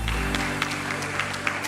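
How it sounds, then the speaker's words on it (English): An audience at a film and TV awards festival claps for sponsor companies, with scattered individual claps over a low hum and no one speaking. "Can we give these companies a big applause?"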